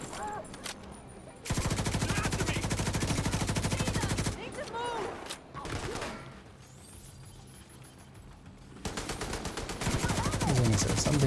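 RPK machine gun firing in a video game, loud rapid bursts of automatic fire in several separate strings with pauses between, a voice talking faintly in the gaps.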